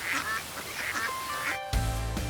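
Ducks at a zoo quack and honk repeatedly in a loud, close, overlapping chorus, then the sound cuts abruptly to another scene.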